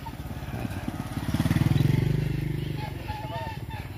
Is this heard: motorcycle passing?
yes